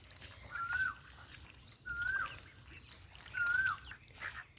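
Large domestic ducks at a farm pond give three short, evenly spaced calls, faint against a quiet outdoor background.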